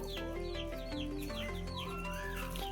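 Hens on a desi poultry farm cluck and squawk in overlapping, quick, rising calls from several birds, near and clear over a low steady background hum.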